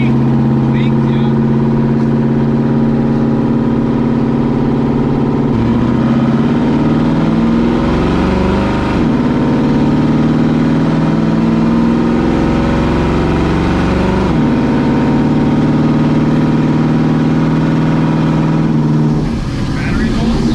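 A Fox Body Ford Mustang engine with an exhaust leak drones loudly and steadily close by, revving up and down a few times; the exhaust note sounds rough and raspy.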